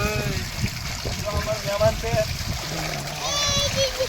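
Water splashes and sloshes as a family bathes in a makeshift homemade pool on a hot day, moderate and close, under constant talking and children's voices.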